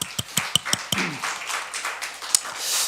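At the close of a church sermon, a few sharp, separate claps ring out near the start, then merge into a softer, scattered round of congregation applause that carries on under the room noise.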